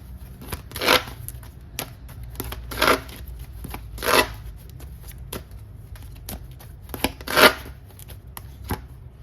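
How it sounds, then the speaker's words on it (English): Tarot cards being shuffled close by, with several sharp riffling bursts at irregular intervals over a faint background rustle, no voices. "shuffle a tarot card."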